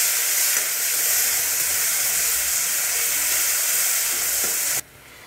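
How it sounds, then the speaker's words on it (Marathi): A spoonful of ginger-garlic paste frying in hot oil with bay leaf, star anise and cinnamon for a chicken curry gives a loud, steady, hissing sizzle that cuts off abruptly near the end. "एक चमचा अद्रक लसूण ची पेस्ट आपल्याला फ्राय करून घ्यायची आहे."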